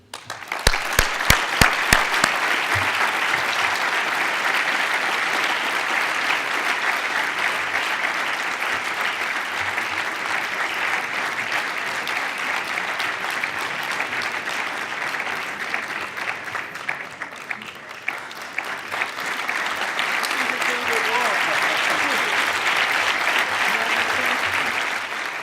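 An audience applauding to welcome President Bill Clinton and another speaker on stage, sustained loud clapping from a large crowd that keeps going steadily for about twenty-five seconds.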